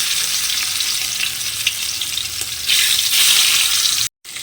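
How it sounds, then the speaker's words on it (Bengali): Surpai fish frying in hot mustard oil, a loud continuous sizzle with bright spattering that swells toward the end before cutting out briefly. "দিয়ে মাছগুলোকে একটু প্রথমে লাল করে ভেজে নেব"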